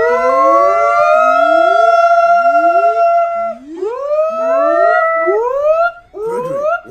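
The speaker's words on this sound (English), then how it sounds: "I hear sirens." Several sirens wail at once in FNAF: Security Breach, rising and falling in overlapping sweeps, loud and close, with a howl-like quality.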